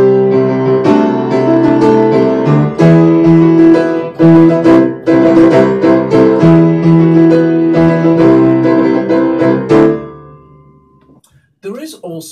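Suspenseful orchestral fanfare version of the Doctor Puppet theme, loud and dense with sustained brassy chords and accented hits, fading out near the end.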